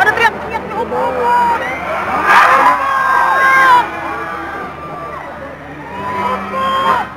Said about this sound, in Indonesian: Jadi mereka ini lagi teriak-teriak opa-opa, opa-opa sarang heo.